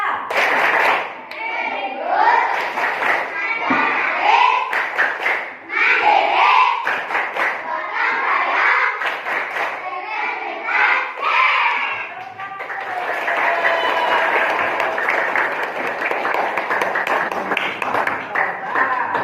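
Children clap together in a steady rhythm while chanting a PPKD clapping chant loudly in Indonesian, their voices and claps blending into an energetic group routine, with a burst of applause near the end.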